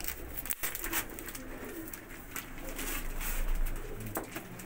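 Pigeons coo continuously nearby in a low, throbbing murmur, with rustling and a brief thump early on.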